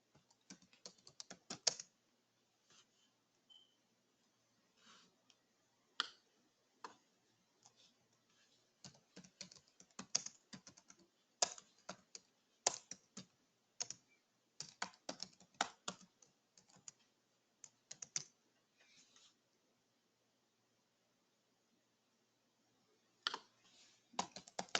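Quiet, close computer keyboard typing while code is written, coming in irregular clusters of quick key clicks separated by short pauses, with no talking.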